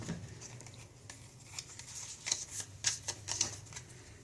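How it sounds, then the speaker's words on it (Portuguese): Card decks and gem tokens for the Melvin vs Kronk board game being shuffled by hand on a table, a quiet run of soft papery riffles and taps with a few sharper clacks near the end, no talking. "vou embaralhar aqui cada um dos bolinhos"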